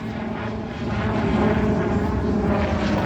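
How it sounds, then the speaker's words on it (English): Helicopter passing overhead, a loud continuous rotor and engine rumble that swells slightly and holds steady, heavy in the low end, with no talk. "That's a helicopter going over."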